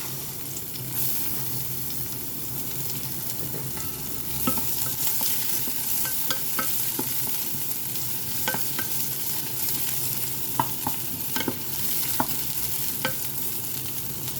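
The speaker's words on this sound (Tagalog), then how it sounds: "mainit na po yung ating kawali. Ayan. Lagay na natin yung ating sibuyas." Onions sizzle in a hot pan as the first step of adobong pusit, a steady crackling fry with scattered stirring clicks and scrapes, close by with no talking.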